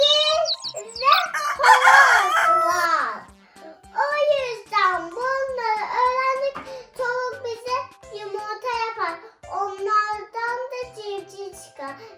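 A rooster crows loudly near the start, followed by a voice talking and singing in bursts.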